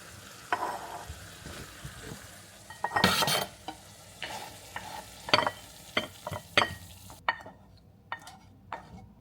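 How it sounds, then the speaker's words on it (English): Marinara sauce and meatballs simmering in a pan, stirred with a utensil that gives repeated scraping and tapping strokes over a soft, low bubbling sizzle, close and fairly quiet, with no talking. "All right, everything is nice and simmering now."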